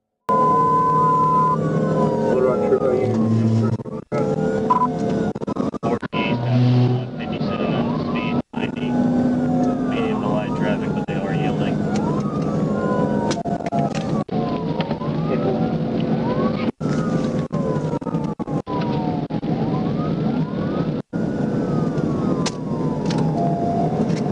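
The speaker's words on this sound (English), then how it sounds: "Trooper activated sirens as the vehicle continued at a high rate of speed" A police car siren wails in repeated rising and falling cycles throughout a high-speed chase on Interstate 40, loud and close over steady road and engine noise, with a few brief dropouts.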